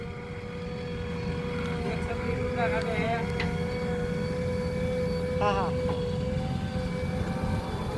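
A tractor engine drones steadily and continuously while levelling a farm field. Brief voices come through over the engine noise.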